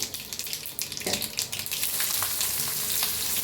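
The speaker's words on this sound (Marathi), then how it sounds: "तापले त्याच्यात टाकूया मोहरी. अर्धा चमचा बघा मोहरी टाकले." Mustard seeds sizzle in hot oil in an iron pan while a green chilli pickle is being made, a steady close frying hiss that builds after about a second, with faint crackles and no voices.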